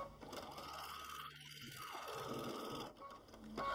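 Sewing machine stitching free-motion around the edges of pointed applique flowers, a soft continuous mechanical whirring with fine rapid ticking, faint and close, briefly pausing midway before running on.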